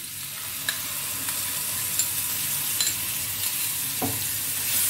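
Ground coriander, cumin, turmeric and tomato paste fry in oil for a vegetarian parwal malai curry, a steady close hiss and sizzle with occasional scrapes of stirring throughout, no voices.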